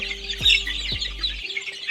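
A brood of young Kadaknath chicks gives high, thin chirps in quick bursts, close by, over a low electrical hum, with a couple of soft knocks.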